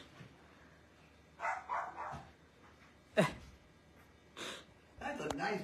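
A few short dog barks and yips from close by, in separate bursts with pauses between, over a quiet background.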